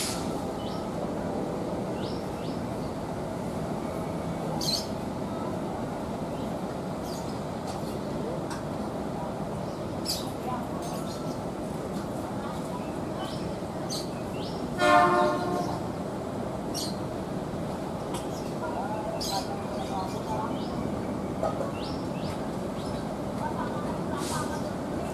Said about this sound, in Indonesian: Keretanya bergoyang-goyang dan berbelok-belok.